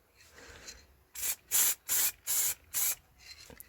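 Spray paint hissing onto a car's rocker panel in five short, evenly spaced bursts of about a third of a second each, close and fairly loud against a quiet background.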